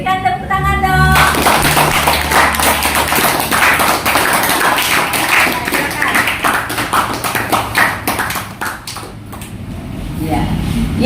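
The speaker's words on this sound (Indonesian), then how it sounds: "Berikan tepuk tangan dong" An audience claps steadily for about ten seconds after the last participant's presentation in a classroom, a dense, sustained patter of hands over a brief voice at the start.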